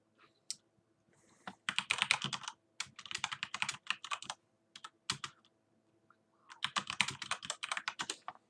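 Computer keyboard typing during a live forex trading session, heard in quick clattering bursts of keystrokes separated by short pauses, close and moderately quiet with no voices.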